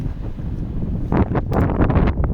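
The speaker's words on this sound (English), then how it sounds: "You won't hear a thing because of the wind." Wind buffets a microphone on a beach in steady low rumbling gusts, with a few brief brighter rustling bursts near the end.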